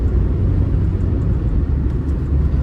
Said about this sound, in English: Feel how smoothly this Rover runs